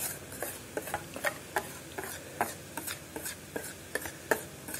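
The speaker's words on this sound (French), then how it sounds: "Je mélange un peu." A spoon stirring kouglof dough ingredients, sugar among them, in a bowl, giving a steady run of light scraping and tapping strokes, about three per second, close and fairly quiet with no one talking.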